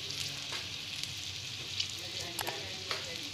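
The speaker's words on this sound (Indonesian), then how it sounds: "Okey, kita goreng." Small balls of cekodok banana fritter batter fry in hot oil, giving a steady, close sizzle with occasional soft pops and crackles, and no talking.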